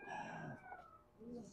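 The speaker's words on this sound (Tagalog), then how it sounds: "Daming manok, no?" Faint chicken calls, a drawn-out crow-like note followed by a brief cluck, heard quietly at a distance.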